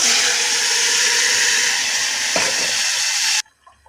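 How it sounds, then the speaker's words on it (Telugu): Cumin seeds sizzling in hot oil for a tempering: a loud, dense crackling hiss right up close that carries on steadily and then cuts off abruptly near the end. "తాలింపు కూడా పెట్టేసుకుందాం. కొంచెం జీలకర్ర కూడా వేసుకుందాం"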